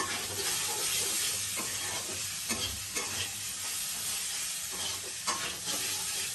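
Shrimp and coconut filling is stirred in a pan for stuffed pointed gourd, a steady close scraping and soft sizzle running the whole time with a few sharper clinks, no talking.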